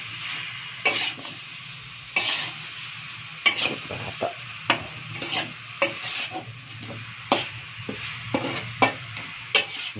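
Spicy duck rica rica cooking in a pan, a steady sizzle punctuated by regular stirring scrapes and knocks of a spatula roughly every second, close and without talk.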